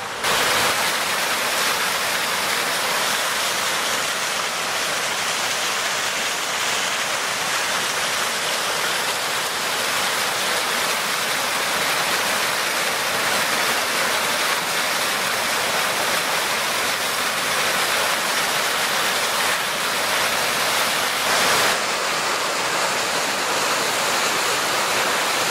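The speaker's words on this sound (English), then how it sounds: "Water bubbling up everywhere." Water bubbles and gushes steadily from the Ashland Geyser in Pennsylvania, a loud, continuous rushing hiss like a waterfall that holds unbroken from start to finish with no voices.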